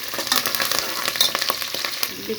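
Curry leaves crackle and sizzle in hot oil in a pan, a steady close frying hiss with small popping bursts and no talking.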